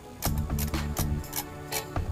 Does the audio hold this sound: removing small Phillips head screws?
yes